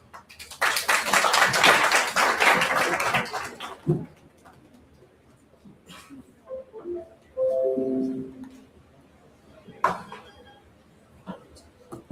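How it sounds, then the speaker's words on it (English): Audience at a college orientation program breaks into a burst of applause lasting a few seconds, fairly close, then fades to quieter scattered sounds and brief speech. "Please welcome ma'am with a round of applause."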